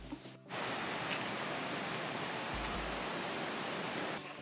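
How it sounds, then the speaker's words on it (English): Uma Anyar waterfall in Bali roaring as a steady, dense rush of falling water close by, filling the whole stretch with a constant broadband wash before tapering off at the end. "So we just came to Uma and your waterfall."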